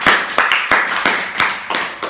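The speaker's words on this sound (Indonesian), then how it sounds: "tepuk tangan." A group of children clapping their hands in a classroom, about six or seven sharp, loud claps in an uneven rhythm with no talking.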